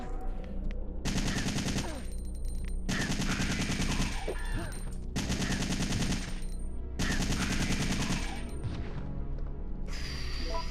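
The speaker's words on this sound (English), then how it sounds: "But for these, I will definitely use my machine gun." Machine gun fire against zombies in Resident Evil 3, loud sustained bursts of rapid automatic shots in several long volleys separated by short pauses, with game effects between bursts and no talking.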